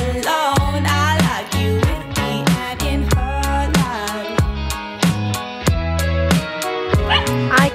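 Several dogs from one family bark in a quick run of sharp, loud, close yaps and yips, with short gaps and some whimpering between the bursts.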